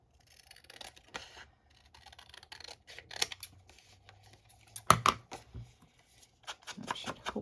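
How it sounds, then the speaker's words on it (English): Scissors snipping through a recycled file folder tag in a series of short, crisp cuts with pauses between, close up and quiet, with a sharper cluster of snips midway. "so I'm going to cut it down."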